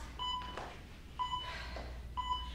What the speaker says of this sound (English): You can hear my timer here that you guys are used to hearing every day